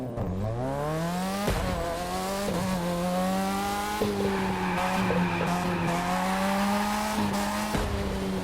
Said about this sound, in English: Oh, that was such a short e-brake pull.